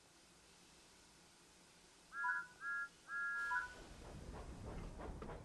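A toy steam engine whistle sounds three short high toots, the last held a bit longer, over a quiet background that then fills with soft chuffing noise.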